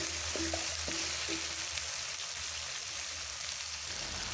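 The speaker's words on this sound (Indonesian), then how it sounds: "Kemudian ditumis kembali sambil diaduk-aduk supaya bagian bawah tidak gosong ya" Sliced onion stir-fries in a pan with a soft, steady sizzle, while a few light clinks of a utensil stirring come at the start. It is faint and even throughout, with no talk.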